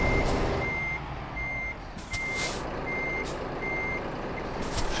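A lorry edges onto a motorway on-ramp, its reversing alarm beeping in a steady, evenly spaced rhythm over a continuous low engine rumble and road noise, with a few brief hissing bursts and no talking.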